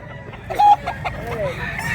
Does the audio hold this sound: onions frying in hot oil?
no